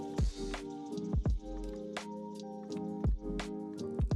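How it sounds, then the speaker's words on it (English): Raw chicken pieces are dipped in egg wash and pressed into breading, giving close, quiet wet squishes and soft drips in uneven bursts with short pauses between. "dip it in your egg wash, and then we're gonna fully coat it in our breading"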